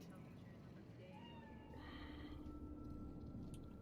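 A cat meows faintly inside the video game Cyberpunk 2077, a thin drawn-out call heard under a steady ambient hum of the game world.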